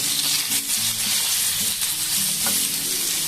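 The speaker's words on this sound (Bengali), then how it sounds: "দেবো একটুখানি অরিগেনো, এটাকে একটুখানি ভেজে নেব" A paneer roll filling with oregano frying in a pan, giving a loud, dense sizzle with bursts of stirring and scraping over the short stretch, close up and with no voices.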